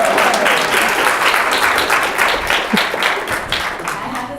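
An audience applauds an artist at an artist talk, a loud, dense burst of clapping sustained throughout and easing slightly toward the end.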